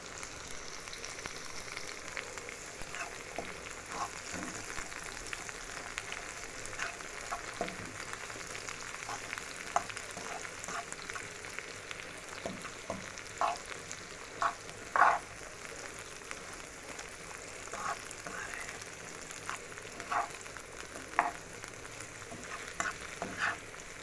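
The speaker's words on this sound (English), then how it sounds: "I'm gonna saute." Sausage and seasoning saute in a pot, a low continuous sizzle with frequent clicks and scrapes as a spoon stirs, the sharpest taps standing out now and then through a long, fairly quiet stretch.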